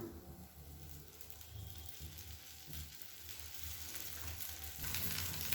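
Dosa batter sizzling in oil on a hot griddle, a quiet, steady hiss and crackle with a low background hum, rising slightly toward the end.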